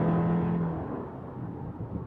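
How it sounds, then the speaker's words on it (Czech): Heard from inside the cabin, a 2018 Subaru Outback 2.5i-S's engine pulls through ordinary acceleration, a smooth, moderately loud drone that eases off into a softer road hum. "začíná příjemný zvuk toho motoru"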